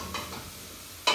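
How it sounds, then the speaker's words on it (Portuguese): Onion and carrot sauté in a pan at home, giving a faint, steady sizzle broken by soft stirring scrapes and a sharper scrape of the utensil at the very end. "A gente tem a cebola douradinha, a cenoura também já dourando."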